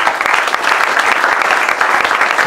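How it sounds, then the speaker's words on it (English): An audience claps warmly to welcome a speaker at an arts event, dense, steady applause holding at even loudness throughout with no talk. "So Jeroen Jongeleen, welcome and a warm applause."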